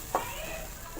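Bread soaked in milk being stirred and fried in a pan for egg halwa, giving a faint steady sizzle with a brief utensil clink at the start, soft and close.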